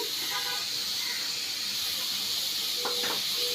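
Chopped carrots and tomatoes fry with spices in a pan, giving a steady, close sizzling hiss throughout, with a brief clink near the end.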